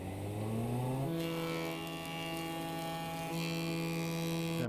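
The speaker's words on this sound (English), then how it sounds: "Face and edge it on the planer." A planer facing and edging vinegar-treated timber for cottage windows in a joinery shop, a loud machine drone whose pitch steps up after a second as the cut engages, steady and close with no talk.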